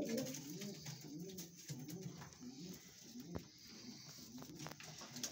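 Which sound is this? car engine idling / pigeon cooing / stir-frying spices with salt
pigeon cooing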